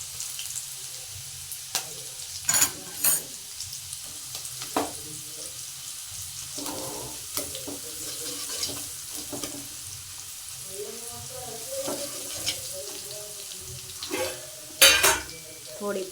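Garlic and chili hit hot oil in a pan for a Kathiyawadi tempered rotlo and crackle in a soft, steady sizzle. Sharp spits and clatters of stirring break through at intervals, and a voice talks faintly underneath.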